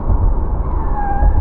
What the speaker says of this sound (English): I heard the wheel squeaking